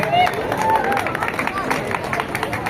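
Crowd of audience members clapping and cheering at a startup song launch event in Kolkata's Sector 5 IT hub, a busy hubbub of claps and voices mixed with speech throughout.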